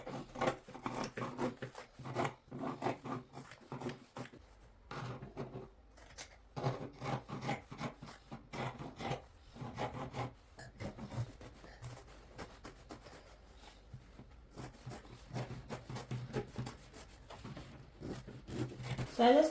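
Scissors snipping through cloth while cutting out a V-neck bubu-style short kaftan gown, a run of soft rasping cuts with pauses, heard beneath a person talking.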